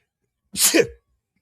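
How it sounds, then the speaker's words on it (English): A single sharp sneeze, close and fairly loud, with silence before and after. "let me sneeze."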